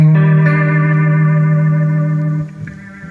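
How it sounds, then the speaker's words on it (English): An electric guitar chord rings out loud and sustained through a Strymon Timeline pedal with added distortion, holding steady for a couple of seconds before being cut off and fading. "if you wanted to add some distortion, you could do this"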